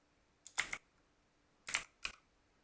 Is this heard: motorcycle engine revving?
no